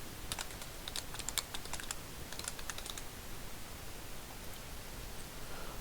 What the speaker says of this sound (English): I'm actually going to type that out because my writing is terrible